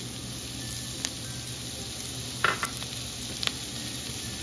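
Pancit miki noodles tossed with shrimp and black pepper in a hot pan: a steady sizzle of frying runs throughout, with a few scraping stirs and clinks of the utensil against the pan near the middle.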